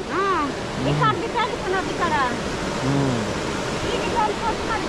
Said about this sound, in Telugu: ఇక్కడ చిన్న వాటర్ ఫాల్ లాగా చూడండి, చాలా బాగుంది. సౌండ్ కూడా చాలా ఎక్కువ వస్తుంది సౌండ్.